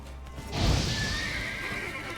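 A horse in The Witcher 3 video game lets out a loud shrill neigh that rises and then trails off over about a second and a half, layered over game effects with brief hoof sounds.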